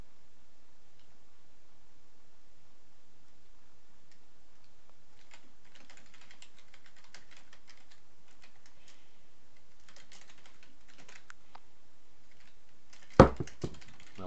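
Soft, scattered computer keyboard typing clicks come in quiet bursts during an online 1v1 game session, then a sharp louder knock near the end. No speech is heard.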